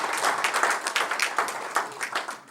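An audience at a sales management conference gives a round of applause for an event organizer, a lively patter of many individual claps with clear separate strikes, steady and moderately close throughout.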